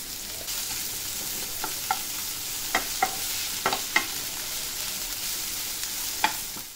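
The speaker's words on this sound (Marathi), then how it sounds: "थोडं कांदा भाजण्यासाठी मी थोडं मीठ घालते." Sliced onions fried with a pinch of salt in a pan, a steady close sizzle broken by a handful of light spatula taps and scrapes.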